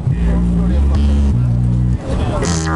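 A voice processed through a synthesizer pedal during a live street performance in Amsterdam, heard as a loud, continuous buzzy tone with stepped shifts in pitch over a deep low end.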